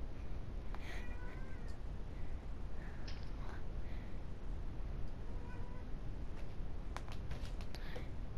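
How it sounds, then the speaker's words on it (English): Several short cat meows sound faintly over a constant low background hum during a Fortnite game session, spaced out irregularly and partly buried. "A beautiful kitty cat."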